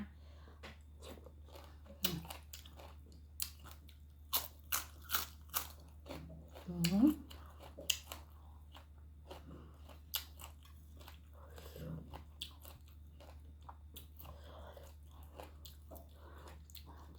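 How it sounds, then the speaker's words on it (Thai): Crunchy, spicy Thai miang salad being eaten, with repeated close bites and chewing crunches scattered across the clip, while someone talks intermittently between mouthfuls. "นี่มากินตำเมียง"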